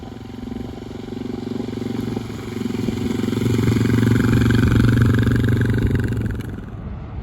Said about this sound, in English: I think today I'm gonna do some exploring on the motorcycle